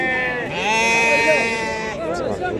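Sheep bleat loudly and close at a Tuesday livestock market in Azrou, one long wavering call overlapping others amid the general market hubbub.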